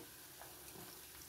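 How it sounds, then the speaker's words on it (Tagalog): Sweet potato fries sizzling in hot boiling oil, a faint steady crackling hiss with small bubbling pops, no talking. "malalaman mo yung init na init yung oil. Kasi kumukulo siya, yung oil."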